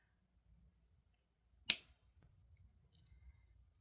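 Jewelry wire snipped off a bead with a single crisp cutter click, close and sharp against near silence, followed by faint small rustles and clicks.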